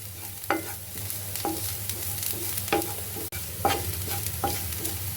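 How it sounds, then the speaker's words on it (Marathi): Onion frying in a pan with a steady sizzle, stirred by a spoon that scrapes the pan in a regular rhythm of sharp strokes, close by and with no one talking. "आपला कांदा भाजून झालेला आहे."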